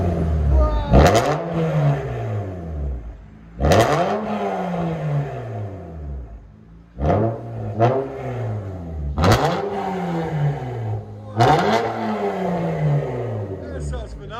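A 2003 Acura TL with a 3.2-liter V6 and straight-piped dual exhaust revs hard, five or six sharp blips rising and falling in pitch, loud and close, with raspy crackle between them.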